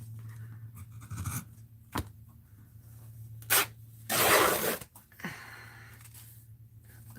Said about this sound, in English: So I can rip this in half too